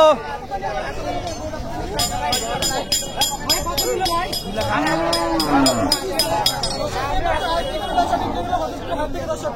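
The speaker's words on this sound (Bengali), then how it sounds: "এই লাল পাহাড় গরুটি বিক্রি হয়ে গেল।" Crowded cattle market at a rural haat in Bangladesh where a large red bull has just been sold, with a steady din of voices, chatter and clinking around the animals and no distinct moo.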